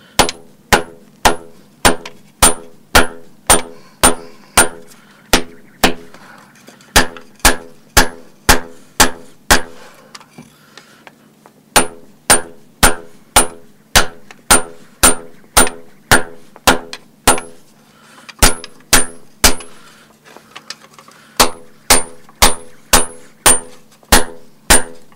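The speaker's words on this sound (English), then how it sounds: "That way you can hold it up like this when you're hammering." Steady, loud hammer blows ring out on hot steel held in tongs while a knife blade is forged, falling in quick even bursts of strikes with brief pauses between runs, with no talking.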